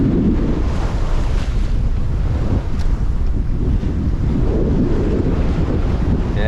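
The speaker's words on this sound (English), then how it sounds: "Yeah, it's windy." Strong wind of 16 to 17 knots roars across the microphone aboard a sailboat at sea off New Zealand, a loud, constant low buffeting with gusty surges, mixed with the wash of waves against the hull.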